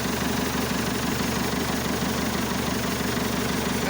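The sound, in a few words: 1964 Massey Ferguson diesel tractor with Perkins 352 engine idling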